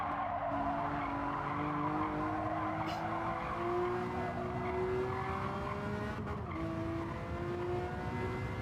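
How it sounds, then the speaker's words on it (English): A McLaren race car in Gran Turismo 7 brakes hard with its air brake raised, the engine note sliding steadily downward under faint tyre squeal, with a brief shift near the end. "Up goes the air brake on the McLaren"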